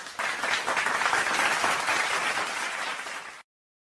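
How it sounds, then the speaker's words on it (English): A round of applause from a crowd, steady dense clapping heard alone at moderate loudness for about three seconds before cutting off abruptly. "We'll give him a round of applause."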